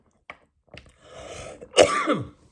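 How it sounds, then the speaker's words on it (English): A few short, harsh coughs and throat-clearing bursts up close, ending with one louder, rasping cough. "I'm coughing a little bit"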